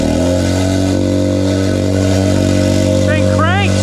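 A Milwaukee MX Fuel battery-powered plate compactor runs forward, giving a loud, steady, close vibrating hum with strong tonal drone and a couple of brief squeaky chirps near the end.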